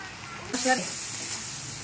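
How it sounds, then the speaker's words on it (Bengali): Potato pieces frying lightly in a pan give off a steady, soft sizzle that starts abruptly and holds at an even hiss. A brief tonal sound cuts in near the start. "আলুগুলোকে একটু হালকা করে ভেজে নেব।"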